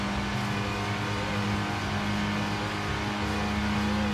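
A race car engine drones steadily in fifth gear on the Nürburgring in a racing video game, a loud sustained tonal engine note holding near constant with slight pitch wavering and no talking.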